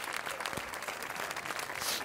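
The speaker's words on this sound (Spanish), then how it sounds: "Un fuerte aplauso, Macho Pacheco." A crowd applauding steadily, a dense patter of many hands clapping throughout at moderate distance.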